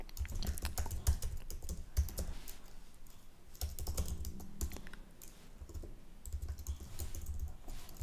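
Steady computer keyboard typing while a headline is written in a Figma web UI design session, with dense, continuous close keystroke clatter and brief pauses between bursts, and no voices.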